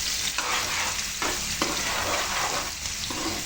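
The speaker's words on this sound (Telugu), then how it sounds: "ఆనియన్ వేసుకొని దాన్ని బాగా వేయించుకోవాలి" Onions frying in a pan for dhaba-style chicken give a loud, continuous close-up sizzle, with periodic stirring strokes and scrapes of the spatula rising and falling throughout.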